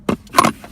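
Keys jangle briefly inside the armrest storage compartment of a 2018 Honda Civic Hatchback, two short close metallic rattles in a quiet cabin.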